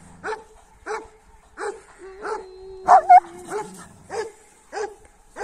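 Sheepdogs from different flocks fighting, with a string of sharp barks and yips at a steady pace, some whimpering mixed in, and a voice calling out in the middle.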